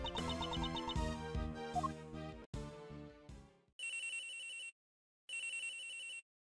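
A phone ringtone from the video game Ace Attorney Investigations 2 plays over busy game music, then repeats as two bright, loud electronic ringing bursts separated by a short silence.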